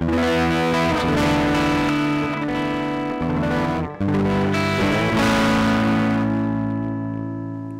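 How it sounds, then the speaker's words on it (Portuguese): Electric guitar played through a Marshall amp simulation plugin with light distortion, ringing sustained chords that shift once midway, thick and saturated with a touch of reverb, played alone without talk. "eu vou usar esse hybrid que eu sempre uso nas minhas demonstrações, que é basicamente uma simulação de um Marshall. Vamos dar um pouquinho de distorção nele."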